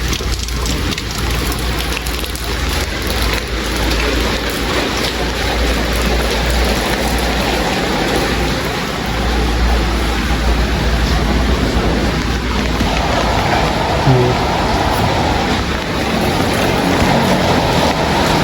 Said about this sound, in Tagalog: dito tuloy-tuloy ng ulan.